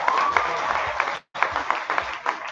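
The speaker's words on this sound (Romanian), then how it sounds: "Aplauze pentru toți!" Dense crowd applause at a high school freshmen ball fills the space, a continuous wash of many hands clapping, with a brief cut in the middle before it resumes.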